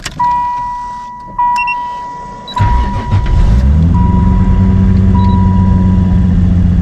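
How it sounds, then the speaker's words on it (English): A car engine cranks and catches, settling into a steady idle rumble after a faint electronic chime and a few clicks. "So I don't push the clutch in when you start it"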